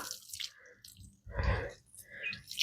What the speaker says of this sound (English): Water my basil.